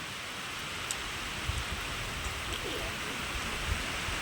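Heavy rain over waterlogged farm fields hisses in a continuous wash, with a few louder drips and soft splashes standing out nearby.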